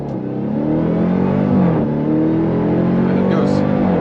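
A Dodge Durango Hellcat engine holds high revs with a loud, steady droning roar as launch control builds for a hard acceleration, heard from inside the vehicle while someone talks over it.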